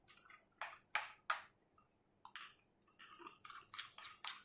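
Ghee and powdered sugar are beaten together in a bowl, giving faint, irregular taps and scrapes of a utensil against the bowl, some clustered and some spaced apart.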